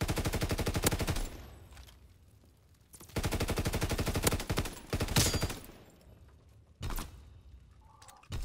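Automatic gunfire in Call of Duty: WWII comes in long rapid bursts of closely spaced shots, loud and near, with pauses between the strings of fire and a short final burst.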